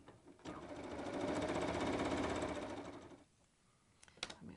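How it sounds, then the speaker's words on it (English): Bernina embroidery machine stitching an open zigzag to tack down an appliqué piece: a close, rapid mechanical needle chatter that runs for about three seconds, then stops, followed by a couple of faint clicks. "now it's going to do an open zigzag stitch to tack this piece down"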